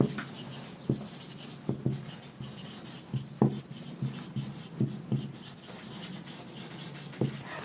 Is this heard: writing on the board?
yes